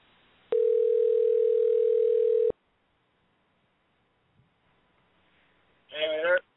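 A telephone dial tone sounds while someone redials a dropped call: a steady, loud tone for about two seconds, then near silence, then a short burst of a voice on the line.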